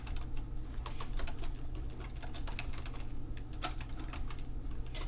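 Quiet tapping on a computer keyboard, irregular clusters of sharp key clicks with brief pauses between them, alone and close by.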